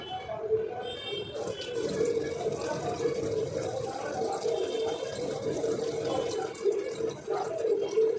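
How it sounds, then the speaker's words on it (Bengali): Tap water runs while someone washes their face, a close, steady stream with small splashes and drips that continues throughout. "আর তোমরা দেখলে আমি মুখ ধুলাম"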